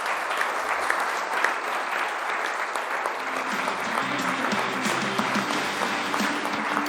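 A studio audience at a sports television program applauds for Giorgio, steady close clapping that fills the whole moment, with a low hum rising partway through.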